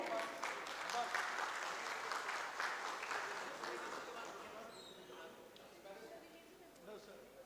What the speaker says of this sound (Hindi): आप सभी इस जोरदार तालियों के माध्यम से सर का स्वागत करें।